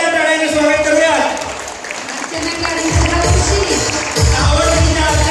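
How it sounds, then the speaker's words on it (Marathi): Loud audience applause and crowd noise welcoming a second prize winner at a birthday celebration for a local councillor, with a steady roar of clapping mixed with voices throughout. "जोरदार टाळ्याने स्वागत करूयात"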